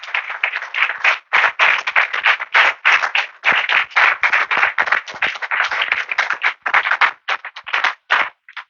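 A church congregation clapping together during a sermon, loud close rhythmic handclaps in an even beat that continues for several seconds with brief gaps.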